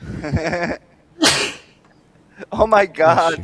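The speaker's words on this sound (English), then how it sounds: "A triple sneezy." A person lets out a sharp, loud sneeze in the middle of nearby conversation, with voices talking before and after it.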